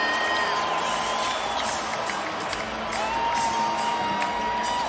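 Basketball arena crowd cheering late in an NBA game, a steady loud roar with whoops and shouts from a packed crowd, sustained throughout without a break.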